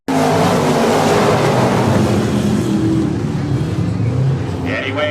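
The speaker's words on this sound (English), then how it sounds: "a couple laps in the book, and Eddie Wade down from Lake City leading" Race cars roar steadily around a Michigan dirt speedway, a loud continuous engine drone that holds throughout, with a track announcer talking over it.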